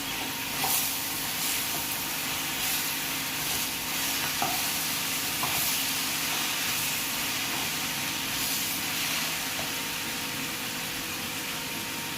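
Mango pachadi mixture stirred in a pan gives a steady, close sizzle with a bubbling hiss and occasional scraping taps from the spoon, continuous and even throughout.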